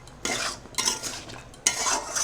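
Vegetables for a mixed vegetarian curry are stirred in a cooking pot, giving three scraping bursts of utensil on metal with short pauses between them, close and alone.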